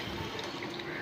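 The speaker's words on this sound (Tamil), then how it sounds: "புளிக்கரைசலை ஊற்றி தேவையான அளவு தண்ணி ஊற்றிக்கோங்க" Tamarind extract pours steadily into a cooking pan for a village-style parrot fish curry, a continuous close liquid splashing and filling sound throughout.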